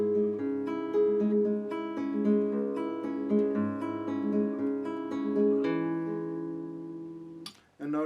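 Classical guitar plays a microstudy from the third movement of Domeniconi's Koyunbaba, with ringing open-string arpeggios and sustained notes, close and clear, ending with a brief handling noise.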